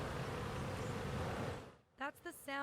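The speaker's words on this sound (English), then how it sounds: "That's the sound of a busy hive, and those are honeybees." A busy honeybee hive hums with a dense, steady buzz of thousands of bees, heard up close for nearly two seconds before it cuts off and a voice begins speaking.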